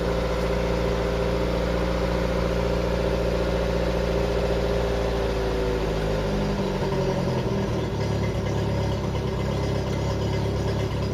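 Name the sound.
Mk3 Ford Cortina Estate 600 crossflow engine idling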